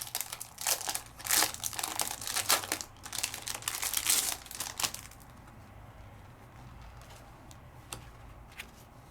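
Sheets of 6x6 double-sided craft paper rustle and crinkle in close, irregular bursts for several seconds, then fall to near silence with a few faint taps.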